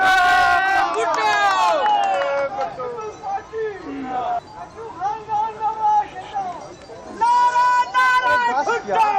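A crowd at a political press conference chants slogans loudly in rhythmic bursts, rising and falling in unison, with the chanting swelling strongly again toward the end.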